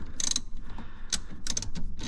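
A hand ratchet tightening the battery terminal on a 2022 Toyota Highlander, bursts of sharp metallic clicking up close in a few separate strokes under a steady background hum.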